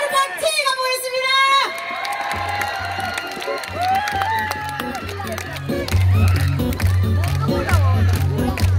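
A crowd at a beach night trot concert in Ulsan's summer festival cheers and shouts in loud, rising waves, with whoops and screams swelling over a pounding music beat as the show gets going.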